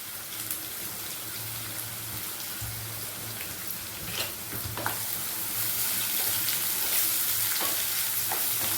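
Puri masala ingredients sauté in a pan with a steady, close frying sizzle, occasional stirring clinks and scrapes, and the hiss growing slightly louder toward the end, no talk.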